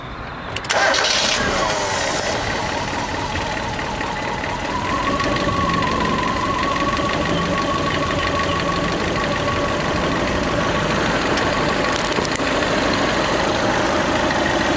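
A turbocharged Ford Festiva engine cranks and catches, then settles into a loud, steady idle with a slightly uneven, offbeat rhythm, recorded close to the car with no speech.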